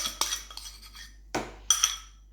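Sharp clinks of cutlery and dishes while an egg mixture for gluten-free pain perdu is handled in a deep plate, a few bright separate knocks and taps with quiet gaps between them.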